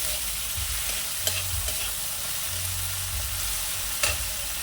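Shrimp frying in a pan while being stirred, a steady loud sizzle with a few scraping stir strokes and occasional sharp knocks, no talking.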